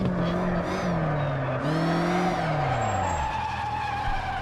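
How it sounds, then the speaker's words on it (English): Tyres squeal in a long, shifting skid in a racing video game over a steady engine roar, the pitch bending downward as the slide fades. "This tyre skid sound is really good."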